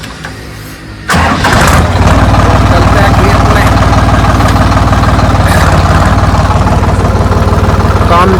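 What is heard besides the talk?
tractor engine starting and idling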